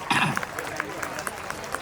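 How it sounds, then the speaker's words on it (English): Scattered audience applause at a school annual day in Hyderabad, a brief spread of light claps from the crowd with a murmur of voices underneath. "Give him a big round of applause."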